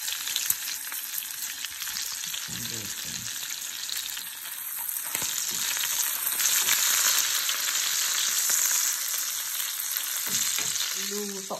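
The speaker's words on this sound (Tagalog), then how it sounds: "Aking breakfast scrambled egg and bacon." Scrambled eggs and bacon frying together in a pan for breakfast, a continuous loud crackling sizzle that swells midway, with occasional clatters of a utensil and brief muffled sounds near the end.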